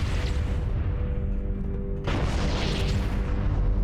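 A grunt blowing up in Halo: The Master Chief Collection, a sudden loud explosive boom halfway through, cutting into a steady rumble of game noise and music and leaving a noisy burst that fades away.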